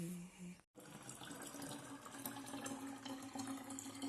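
Tap water runs steadily into bottles being filled in a home kitchen, a continuous close splashing flow after a brief pause near the start, with faint background sounds throughout.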